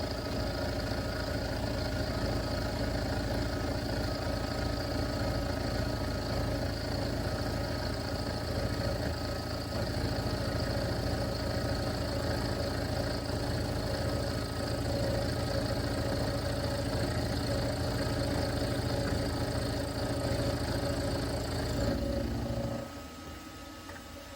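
A PM-25M milling machine squares an aluminum plate with an endmill, giving a steady, loud mechanical whir and hum with a constant cutting hiss. It stops abruptly near the end, leaving a quieter motor tone.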